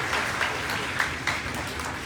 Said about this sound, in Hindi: एक बार जोर से ताली बजाओ ताकि पता लगे हमारा सही बोल